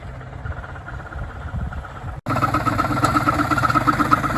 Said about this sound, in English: it's got a little tiny Honda engine on there, probably about 4 or 5 horsepower